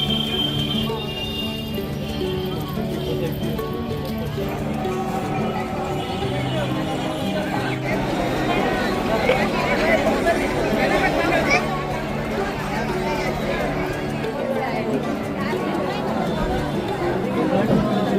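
Dense crowd chatter at the Pandharpur Vitthal temple, a steady babble of many voices with shuffling movement, continuous and fairly loud throughout.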